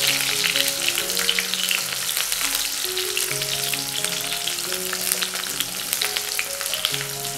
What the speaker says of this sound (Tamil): இது கொஞ்சம் வதக்கிங்க.